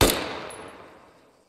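A single rifle shot from an L129A1 sharpshooter rifle in Arma 3, fired at sandbags: a sharp, loud crack that opens the clip and fades through a long, decaying echo tail.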